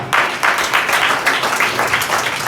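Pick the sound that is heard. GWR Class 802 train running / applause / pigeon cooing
applause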